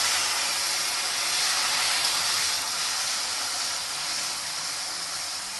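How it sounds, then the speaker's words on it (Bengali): Tomatoes sizzle in hot oil over a tempering of five spices, dried red chillies and bay leaf, a steady loud frying hiss that runs unbroken throughout with no talk. "ফোড়নে দিয়ে এখন দিয়ে দিচ্ছি টমেটোগুলো"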